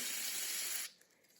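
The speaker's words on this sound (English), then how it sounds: "I'm gonna use a little deoxit. I like to just have a little bottle cap to spray a little extra in here." DeoxIT contact cleaner sprays in one steady, close hiss aimed into a bottle cap while connector pins of a Night Driver arcade machine are being cleaned, cutting off abruptly after about a second into quiet.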